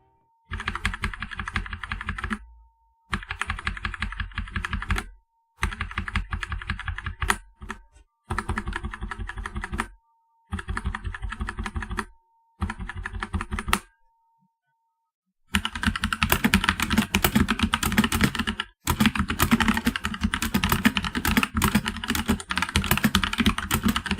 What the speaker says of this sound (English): Here is a sound test with and without O-rings.